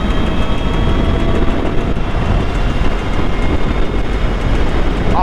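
An electric bobber motorcycle fitted with a larger 38-tooth rear sprocket accelerates hard on the throttle, giving a steady, loud, continuous rushing roar of motor and wind noise without a break.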